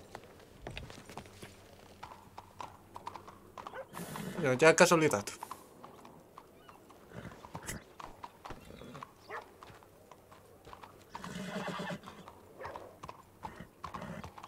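Horse in the western roleplay game Dead West RP, with clip-clop hoofbeats and a loud burst of horse noise partway through, heard under ongoing talk and a scattering of game sounds.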